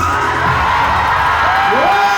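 A drag show audience at Newcastle Drag Idol cheers, whoops and shouts loudly after a Big is Beautiful performance, a dense sustained roar with individual yells rising above it.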